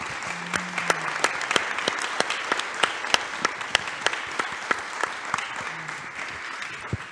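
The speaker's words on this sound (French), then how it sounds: "je voudrais aussi qu'on en profite pour applaudir nos 2 traductrices pour cet effort ce soir" An audience at an evening talk on urban biodiversity and climate adaptation gives two translators a sustained round of applause, dense and even for about seven seconds, with no talking.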